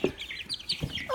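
Young chicks about three to four weeks old, out of their brooder, give a few soft clucks and peeping chirps, close by and fairly quiet.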